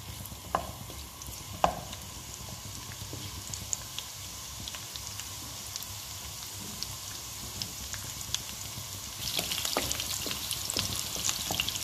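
Thinly sliced leek, chili and a halved garlic clove sizzle gently in oil in a pan, a soft, steady crackle with occasional louder pops, growing a little brighter toward the end.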